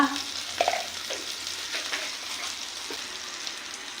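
Butter and cumin seeds sizzling in a pan for tomato soup, a close, steady crackling hiss with small pops and occasional stirring scrapes, no talk over it.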